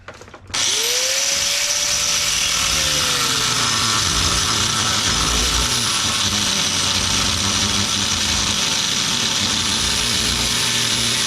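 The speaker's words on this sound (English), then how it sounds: "So I'm going to cut it right here." A power tool cuts through a car's exhaust pipe during a budget catalytic converter install, giving a loud, steady, continuous grinding whine that starts abruptly after a brief quiet moment and holds without letup.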